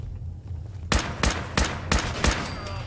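Rifle fire in the video game Fallout 4: five sharp, loud shots spaced roughly a third of a second apart, each with a short echoing tail, after a quiet stretch of low background ambience.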